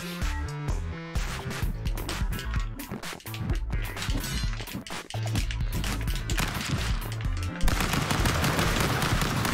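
Gunfire in the video game Stick Fight: The Game, loud rapid bursts of shots and machine-gun fire in quick succession, with a denser crackling barrage near the end.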